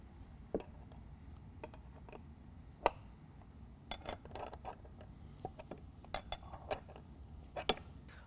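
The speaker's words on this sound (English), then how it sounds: "I'm going to go ahead and tighten this one down as well" A wrench turning a nut down on a truck bed bolt during a DECKED storage system install, with sparse, quiet metallic clicks and clinks at irregular intervals and no talking.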